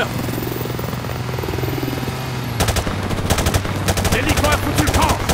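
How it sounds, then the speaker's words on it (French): A helicopter in Call of Duty: Modern Warfare Remastered holds a steady low rotor drone, joined midway by loud, rapid bursts of gunfire that continue to the end. "Hélico à 12h."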